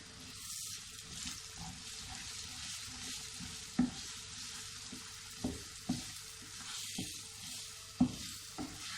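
A potato and semolina mixture cooked over low flame in a pan for crispy doughnuts, a soft quiet sizzle broken by several sharp spoon knocks and scrapes as it is stirred.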